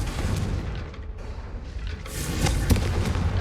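An explosive blast spell goes off in the Hogwarts Legacy video game, a dull boom followed by crackling burst effects over steady background game noise, with no voices.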